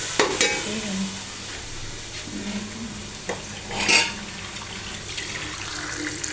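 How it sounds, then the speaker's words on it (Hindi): Soft sizzling of masala frying in a pan and boiling lentils for daal pulao, with watery bubbling and occasional scraping clatter, steady and close with a few louder spoon knocks. "ये कब तक फ्राई हो रहा है, दाल भी हमारी बॉईल हो रही है।"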